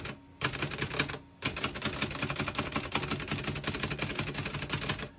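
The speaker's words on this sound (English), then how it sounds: "As you can see, all the keys type nice, and none of them skip or stick." A 1941 Remington Quiet Model 1 portable typewriter clatters under steady typing, a fast run of crisp key strikes with a brief pause after the first burst, close and alone.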